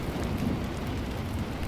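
A thunderstorm with steady heavy rain and low rolling thunder forms a dense, continuous roar that stays close and even throughout, with no talking.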